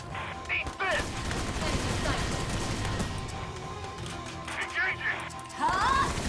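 Dense, sustained gunfire and explosions from a Valkyria Chronicles 4 battle crackle nearly continuously at close range, with sharper bursts toward the end and a voice talking over the shooting.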